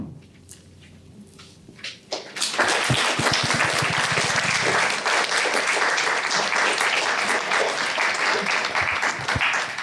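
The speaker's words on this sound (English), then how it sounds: "Please, some more applause for Lyudmyla Khersonska, Boris Khersonsky, Ilya Kaminsky, and Carolyn Forché." A poetry reading audience breaks into loud, sustained applause after a couple of seconds of quiet room sound, the dense clapping filling the rest of the moment.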